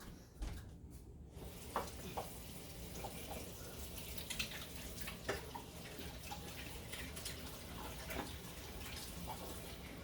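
Tap water running into a kitchen sink for handwashing, a faint continuous wash of splashing with occasional soft clinks and drips, no talking.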